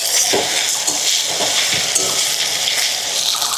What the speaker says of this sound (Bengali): ভালো করে ভেজে নিব রসুনটা।